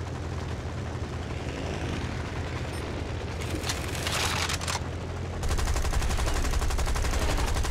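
Aircraft machine guns fire in the War Thunder video game over a constant engine roar, with short bursts and then a longer sustained rattle, dense and fairly loud.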